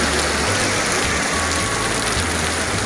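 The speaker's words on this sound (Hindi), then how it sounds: "बहुत तेज़ बारिश हो रही है।" Heavy monsoon rain pours down in a steady, dense roar that fills the whole moment without a break, loud and close, with no voices over it.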